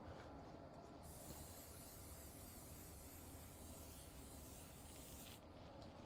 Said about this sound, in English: Give her a spray with the olive oil.